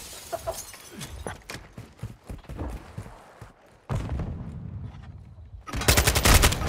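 Rapid bursts of automatic gunfire from Modern Warfare 2 online multiplayer crackle in repeated volleys, dropping off briefly before a dense, loud final burst.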